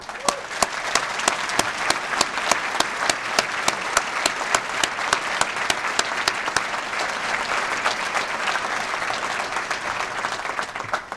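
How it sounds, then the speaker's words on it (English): Sustained audience applause at a county government State of the County address, many hands clapping steadily at close range for about eleven seconds, with sharp individual claps standing out above the dense crowd sound. "I'd like a rousing round of applause for Jody Zepp of Hammond High School"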